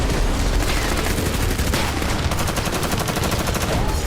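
Rapid crackling bursts of explosions from rockets striking Israel, loud and continuous, a dense barrage of overlapping blasts heard from a distance with no break.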